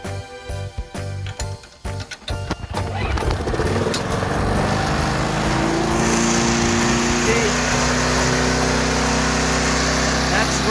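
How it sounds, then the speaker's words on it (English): A lawn mower engine starts with a few uneven chugs, then catches and runs at a steady, loud, high-pitched over-revving drone with a constant whine, while people talk. "That's revving way too high."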